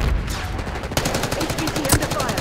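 Gunfire in the multiplayer shooter Call of Duty: Black Ops 6, a steady rattle of rapid shots with a sharper burst near the end, set against busy game noise.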